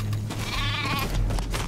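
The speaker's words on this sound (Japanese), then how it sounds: "仲間が羊を追い立ててくれた。" Sheep in the Metal Gear Survive video game bleat while being herded, a close, loud, wavering bleat over game background noise.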